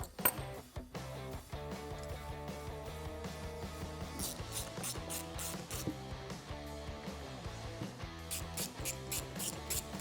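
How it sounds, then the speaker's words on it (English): A 5/16 Allen socket on a ratchet tightens the strut spacer nuts of a leveling kit on a 2006-2018 Ram truck. Close, rapid ratchet clicking runs steadily throughout, with brief pauses and resumed bursts of clicks. "Grab your 5/16 Allen key or Allen socket and tighten this down."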